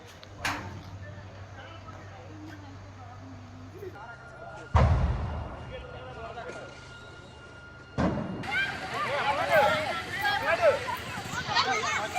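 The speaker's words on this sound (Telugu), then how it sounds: "వరుసగా ఆయిల్ డ్రమ్ములు పేలడంతో పొగ దట్టంగా కమ్మేసింది." Stored solvent oil drums burst one after another in a chemical factory fire at SVS Chemicals in Anakapalli district. A heavy, near thud is followed by a loud, continuous roar, with voices heard throughout.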